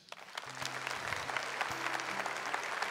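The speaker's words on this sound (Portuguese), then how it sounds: "Aplauda isso." A church congregation at a Catholic Advent Mass breaks into applause, the clapping building quickly and then holding steady, with a low sustained tone underneath.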